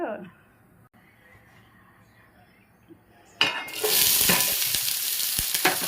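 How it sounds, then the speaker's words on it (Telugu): Chopped onions drop into hot oil in a home kitchen pan for Telugu fish curry. After a quiet stretch with a little talk, a sudden loud, bright sizzle bursts in and keeps hissing steadily, with faint utensil clinks. "ఉల్లిపాయలు అయితే వేసుకున్నాను. వీటిని ఇలా కొంచెంసేపు వేయించుకోవాలి."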